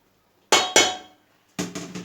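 Heavy metal cooking pot set down on a stovetop with two sharp clanks, followed a moment later by three quicker metallic knocks, close and clear in an otherwise quiet kitchen.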